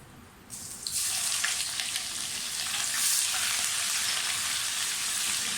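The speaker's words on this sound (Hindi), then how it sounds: "लहसुन अदरक का पेस्ट डाल दें।" Loud, steady sizzling of garlic ginger paste frying in hot oil in a pan, starting abruptly and continuing throughout with faint scraping.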